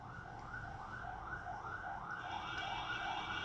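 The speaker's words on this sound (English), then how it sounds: "The siren again." A wailing emergency siren passes outside, its rising and falling cycles repeating steadily at moderate distance and fairly faint, with a second tone joining near the end.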